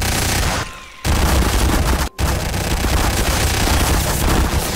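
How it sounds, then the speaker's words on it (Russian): Loud, dense machine gun fire roars almost without pause in a Garry's Mod game, breaking off briefly twice before the sustained burst resumes. "у тебя очень мощный пулемет"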